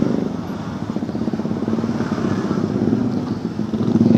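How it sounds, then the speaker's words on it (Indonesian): A motorcycle on a commute from Bekasi to Jakarta hums steadily at close range, its engine note slowly growing louder toward the end as it picks up speed, with road noise and no talk. "Kita lihat apakah motor ini bisa dipacu."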